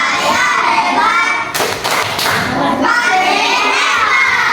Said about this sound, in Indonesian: kita sama-sama lagi kasih tepuk hebat untuk buat kelompok belajar estetik